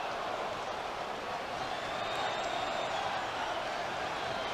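Dodgers Stadium crowd in Los Angeles during a 2004 NLDS playoff baseball game, cheering for pitcher Jose Lima: a dense, steady roar of distant fans with scattered whoops, continuous throughout.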